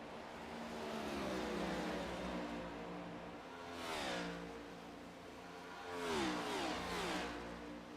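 A race car in the FastTrack Cup Series at Watkins Glen revs hard on the exit of turn 1. Its engine note climbs and falls in sweeping surges, and the loudest swell comes near the end as cars pass close by.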